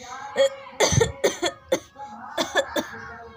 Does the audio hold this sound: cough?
yes